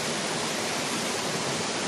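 Steady rushing river water heard while wading across a stream on a mountain trail, a dense continuous flow, loud and close with no break.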